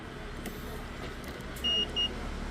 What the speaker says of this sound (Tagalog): So napapansin nyo mga ka-DIY ay nag-buzzer siya.